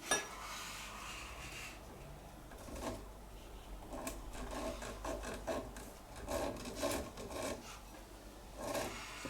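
A file rasps against a straight razor scale in repeated rough strokes, a faint scraping rhythm under quiet background noise.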